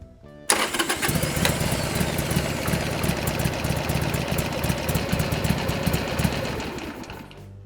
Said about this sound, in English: go ahead and cycle your engine for a minute or so